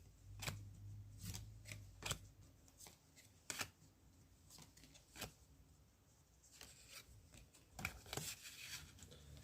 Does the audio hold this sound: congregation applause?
no